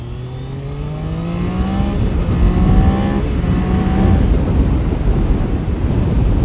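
A Triumph Daytona 660 triple-cylinder motorcycle accelerates hard, its engine note climbing through several manually shifted gears, each pause followed by a new rising pitch, with strong wind rush building over the run.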